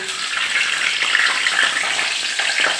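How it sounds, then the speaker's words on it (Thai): Large oily mackerel frying in hot oil, a steady close hiss and crackle of sizzling with no pauses and no talk. "ปลาทูมันตัวใหญ่ทอดปลาทูมันกันเลยนะคะ"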